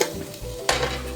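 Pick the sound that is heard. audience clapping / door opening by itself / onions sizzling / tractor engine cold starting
onions sizzling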